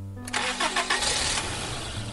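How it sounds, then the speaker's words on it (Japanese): A car engine starting in the otome game Stand My Heroes: a brief starter crank catches into a running engine that settles into an idle, close and clear with no talk. "服部さんは何を思いついたのかエンジンをかけた"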